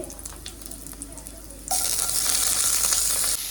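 Snake gourd frying with garlic, onion and green chili, a close sizzle that jumps suddenly louder as more goes into the hot pan, with stirring throughout and no talk.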